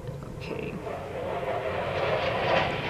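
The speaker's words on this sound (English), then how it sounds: "Can you hear the planes?" Airplanes passing overhead near an airport, a distant low roar that slowly swells louder over a few seconds, heard faintly indoors.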